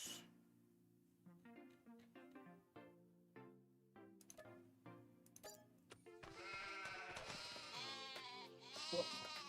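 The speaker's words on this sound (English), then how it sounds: "That's a lot of sheeps and goats." Sheep and goats bleat in Farming Simulator 25, a sequence of distinct calls with a rising, rhythmic pattern before a dense overlapping chorus of many animals swells up, loud and close, with no talking.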